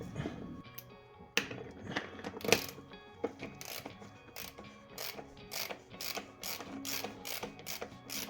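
A ratchet clicks in quick bursts while a part is refitted on a Smart Fortwo engine, the pawl ticking in a close, uneven rhythm with short pauses between strokes.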